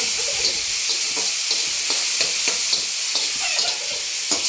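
Cut potatoes sizzle loudly in a hot pan with onions that have already browned. A spoon scrapes and stirs through them in repeated strokes over a constant, close frying hiss.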